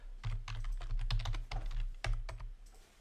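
Quick clattering keystrokes on a computer keyboard come in irregular bursts, close and fairly quiet, with no voices.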